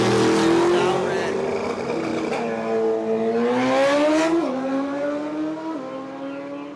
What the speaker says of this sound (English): Right lane, we got Turbo Bill Ray, dialed in 884 on the Hayabusa